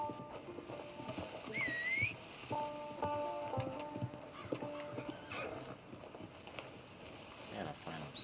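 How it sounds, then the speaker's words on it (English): A horse in a multiplayer Red Dead video game whinnies sharply, then its hooves clip-clop amid quiet ambient game sounds and light rain, with a voice speaking briefly over it. "Good horse."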